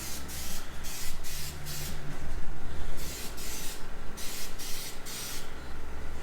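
Short repeated spray-can bursts of paint hiss onto a Honda CR-V grille in thin coats, with a low heater hum running underneath throughout.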